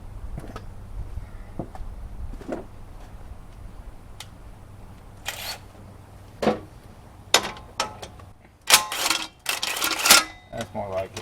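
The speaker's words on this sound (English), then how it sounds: "Now let's see if we can take the jack out." A car jack being lowered and pulled out from under a Chevy HHR during a driveway transmission job, heard as scattered clicks and metallic clanks. They grow louder and denser toward the end, with faint talk in the background.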